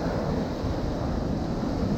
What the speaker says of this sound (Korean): 헬센프에서 해운대 해수욕장 백사장까지 걸어보았어요.